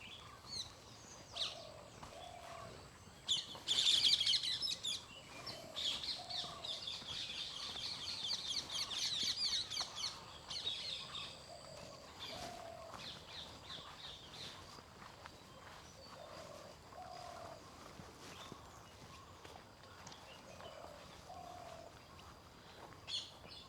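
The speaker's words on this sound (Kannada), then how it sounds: "ಪಕ್ಷಿಗಳ ಸೌಂಡ್ ರೆಕಾರ್ಡ್ ಆಗುತ್ತೆ ನ್ಯಾಚುರಲ್ ಆಗಿ." Birds call and chirp in a forest near Bangalore on an early morning, with short repeated notes at a moderate distance, scattered footsteps and rustling in between, and no speech.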